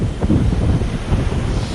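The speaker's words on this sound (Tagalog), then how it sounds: "Malakas ang hangin at tumataas ang alon" Steady, loud rushing wind buffets the microphone throughout, a continuous low roar with no voices, with waves rising.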